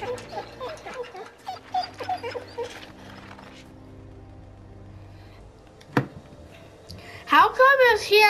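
A person talks for a few seconds, then after a quiet stretch and a single sharp thud a dog in the video game The Walking Dead: Season 2 lets out a close, loud run of high, wavering whimpers.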